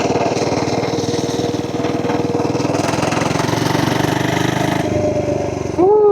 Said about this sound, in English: Do you guys hear that engine? 3 horsepower.